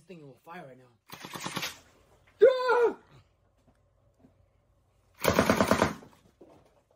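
AK47-style gel blaster firing two short rapid bursts of snappy shots, separated by brief speech and quiet pauses.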